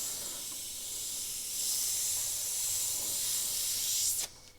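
Iwata HP.BCN Neo suction-feed airbrush with a paint jar underneath spraying a steady, continuous hiss that swells slightly partway through, then cuts off sharply near the end.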